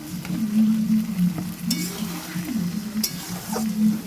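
Chicken frying in a pan with browned onions: a steady close sizzle with a scraping stir and occasional clinks of utensil against the pan.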